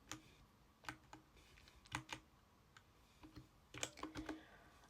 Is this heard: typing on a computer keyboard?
yes